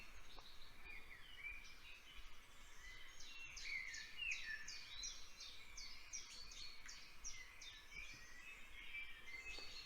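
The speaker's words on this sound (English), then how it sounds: "So that's a recording of common wild birds in the UK." Several common UK wild birds sing and chirp in overlapping phrases, fairly faint and distant, with a soft hiss of outdoor background noise underneath.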